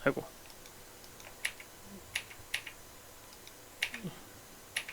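A computer keyboard gets a handful of sharp, close key clicks spaced irregularly over a quiet background.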